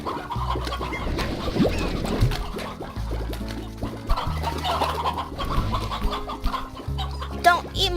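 Chickens clucking in the video game Slime Rancher, several short repeated clucks and squawks in a busy game soundscape alongside rhythmic low tones, with no talking.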